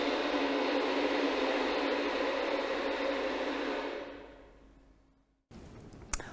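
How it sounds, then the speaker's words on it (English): Second violins dig hard into their strings in Julia Wolfe's orchestral piece riSE and fLY, giving a dense, harsh scratching noise that holds steady for several seconds, then fades out before a brief, quieter rustle. "They are asked to dig deep into their string and make a scratch sound like this"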